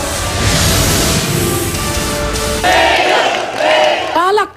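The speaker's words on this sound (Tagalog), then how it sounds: "Palakpakan at hiyawan ang isinulubong kay Isko Moreno nang iproklama siya bilang bagong mayor ng Maynila kagabi" A large crowd roars with loud cheering and shouts at a nighttime mayoral proclamation in Manila, a dense, sustained wall of voices with whoops rising near the end.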